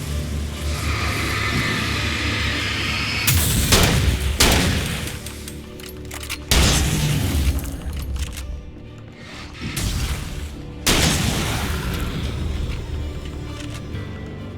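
Shotgun fire in the Alan Wake video game: several loud, booming blasts spaced a few seconds apart over a windy, rumbling ambient background.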